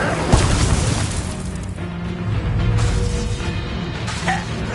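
An Incendio fire spell is cast in Hogwarts Legacy during a duel, with loud whooshing bursts and booming impacts over a dense layer of combat effects.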